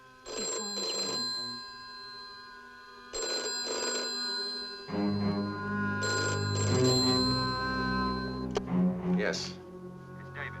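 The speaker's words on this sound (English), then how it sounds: "Your phone's ringing." A telephone rings repeatedly in regular bursts while people talk over it, the bell-like tone cutting in and out.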